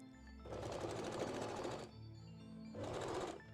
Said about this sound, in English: So today I am using the zigzag stitch.